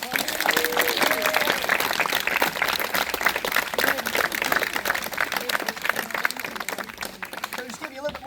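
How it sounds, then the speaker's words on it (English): A crowd claps for the gun crew after a cannon firing demonstration on the deck at the American Revolution Museum in Yorktown, Virginia, a dense, sustained wash of outdoor applause mixed with scattered voices and calls. "How about a round of applause for the gun crew?"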